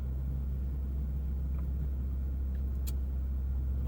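A Toyota Supra driving and turning around in a U-turn, a steady low engine and road rumble heard from inside the cabin, even and moderately quiet with no voices.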